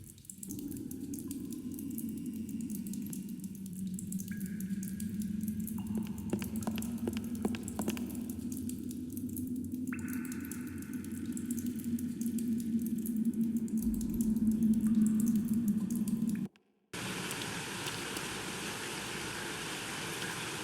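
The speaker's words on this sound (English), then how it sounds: "I'll place the stone directly under the dripping water." Water drips steadily in a cave in the Lost Horizon video game, a continuous trickle with repeated drip sounds, ending with a brief cut and a brighter splash of running water.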